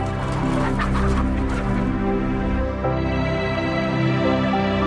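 Dense chorus of caged hens clucking and squawking together, loud and continuous throughout, with no talk.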